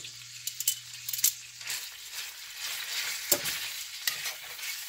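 Bacon frying in a freshly re-seasoned Levco cast iron skillet, a close, steady hiss of fat with a few metallic clinks and scrapes as the strips are moved, loud and continuous without speech.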